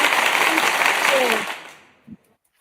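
An audience applauds a man retiring after 30 years of work, a brief burst of clapping mixed with voices that fades out quickly, followed by one short knock near the end.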